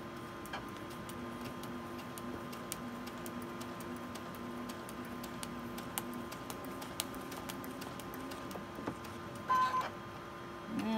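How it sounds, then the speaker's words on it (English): Sewing machine stitching slowly across a paper-piecing line on a quilt block, a soft steady run of rapid ticking stitches under a low motor hum, close and quiet with no talk. "I'm just going to slowly sew across that line"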